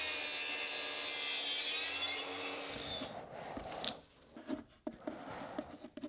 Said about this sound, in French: Donc William est en train de poncer gentiment les façades.